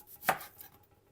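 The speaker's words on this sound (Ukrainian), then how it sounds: "Починаю різати цибулю." A knife cuts into an onion with a single crisp chop on a board, close and fairly faint, followed by quiet rustling.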